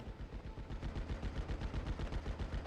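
Sustained bursts of .50 cal heavy machine gun fire in a wargame, dense rapid rounds rolling continuously at steady loudness, no voices.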